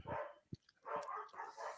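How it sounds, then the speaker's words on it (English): Dogs barking at a wrestling event, heard as a few short, muffled yips and barks at moderate distance over a low, noisy background. "The dogs are going mad"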